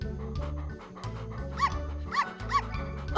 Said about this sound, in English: Oh, look, an adorable litter of puppies.